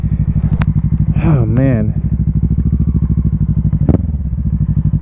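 A Kawasaki Ninja 650 motorcycle engine idles and runs close by with a loud, steady, pulsing throb, and someone speaks briefly over it.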